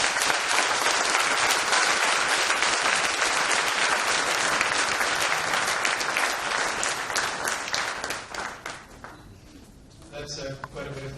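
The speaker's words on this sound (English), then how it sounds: "please welcome him with a big round of applause" Sustained applause from a lecture audience welcoming a guest speaker at a MICA speaker series, loud and dense for about eight seconds, then thinning and fading out near the end.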